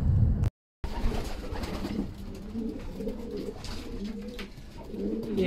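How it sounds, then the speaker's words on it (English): Racing pigeons coo in low, soft, repeated murmurs close by, a steady overlapping chorus over a hum of wind or background noise, with a brief dropout near the start. "let's have a little look at the birds."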